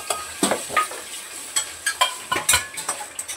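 Semolina roasts in hot ghee in a heated kadhai over low flame. A soft frying sizzle runs under sharp, irregular scrapes and taps of a spoon stirring against the metal, heard close with no talk.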